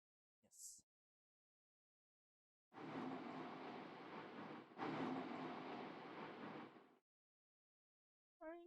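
A train runs past a station in an anime-style game scene, a rumbling passage of about four seconds with a short break in the middle, framed by silence and brief chimes.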